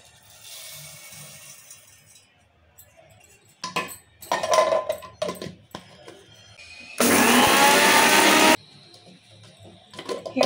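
A mixer grinder powders roasted amla (Indian gooseberries), cumin and mustard seeds: one loud, steady whirring burst of about a second and a half, preceded by scattered clinks of utensils.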